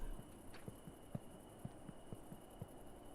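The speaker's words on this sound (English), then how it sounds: "Lag. Made it sound like a thumping heartbeat." Game lag in Dungeonborne turns into a faint, evenly spaced thumping like a heartbeat, soft low beats repeating about every quarter second over a quiet hum.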